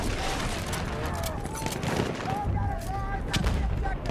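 Rifle gunfire and battle noise from the video game Battlefield 1, a dense continuous barrage of shots and distant artillery booms filling the whole stretch, loud and steady, with voices faintly mixed in.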